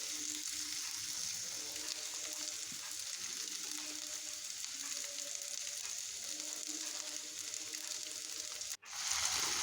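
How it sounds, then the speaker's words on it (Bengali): Catla fish pieces coated with turmeric, chili, five-spice and salt fry in hot oil, giving a steady, dense sizzle that carries on throughout and briefly cuts out near the end. "আর কাতলা মাছ ভেজে নিচ্ছি।"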